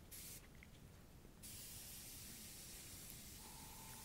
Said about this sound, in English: Just by holding the trees and spraying white